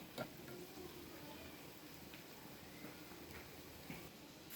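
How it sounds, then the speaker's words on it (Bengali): Coconut pitha wrapped in jackfruit leaf frying in a pan, a quiet constant sizzle with a couple of soft stirring knocks, faint and without talk. "এই তো দেখেন ভাজা হচ্ছে আরো একটু ভাজা হবে একদম ব্রাউন কালার হয়ে যাবে"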